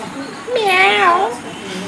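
A cat gives one drawn-out, wavering meow in a home, close and fairly loud, rising and then falling over about a second, against a quiet background.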